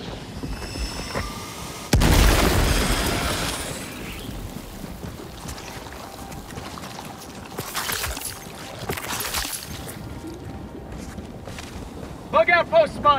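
A grenade blast goes off in a bug hole in Helldivers 2, a sharp burst that rumbles away, followed later by fainter thuds amid steady wind-like ambience and scattered game noise.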